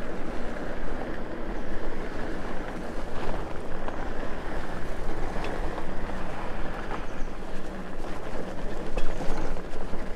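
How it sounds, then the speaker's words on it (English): A quiet Wired Freedom vehicle rolling off-road over a little dirt, giving a soft continuous rumble and crunch of tires with faint knocks and rattles, no voices. "I'm gonna shut up so you can hear how quiet this is off-road"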